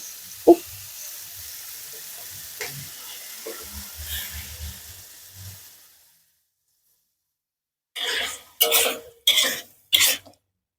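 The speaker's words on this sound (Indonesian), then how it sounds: "ini diaduk-aduk terus ya teman-teman sampai airnya ini berkurang" A spicy sweet and sour dish sizzles and gets stirred in a pan, with a steady frying hiss, clinks and scrapes, and a few coughs nearby. After a short pause comes a run of sharp bursts.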